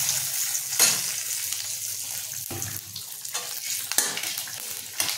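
Nigella seeds hit hot mustard oil in a kadai along with dried red chillies and bay leaves for a tempering, giving a steady close sizzle with a few sharp spits and crackles.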